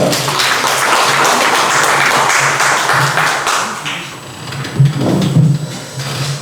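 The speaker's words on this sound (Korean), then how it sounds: "발제하겠습니다. 박수로 맞아주시기 바랍니다." Forum audience applauding to welcome a presenter at a youth unification education debate, loud sustained clapping filling the room, thinning out toward the end with some low rustling.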